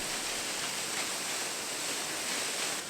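An Oregon waterfall roars as a steady, dense broadband rush, constant and fairly quiet, with no voices over it.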